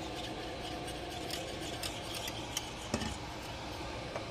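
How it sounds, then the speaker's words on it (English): A custard mixture for a Catalan-style dessert is stirred in a small sauce pot, making a continuous close scraping and swishing with a few soft metallic clinks along the way. "Then we're going to take this back into this little sauce pot. Stir that all in."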